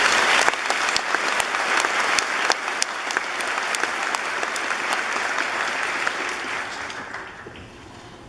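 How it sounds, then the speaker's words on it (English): A graduation audience gives a sustained round of applause for a guest speaker, dense and close, with many hands clapping together, fading toward the end. "Would you please join me in thanking Mr."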